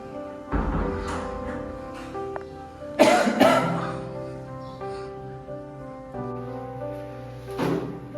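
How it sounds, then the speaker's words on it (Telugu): A person coughs indoors, several separate coughs and throat-clearing bursts spread across the clip, fairly close, with quiet household sounds between them. "దగ్గు వస్తుంది"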